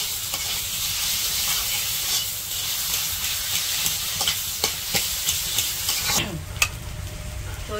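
A spice paste ground from banana stem frying in a pan, a loud continuous sizzle and hiss with scraping stirring strokes and clinks of the spoon throughout.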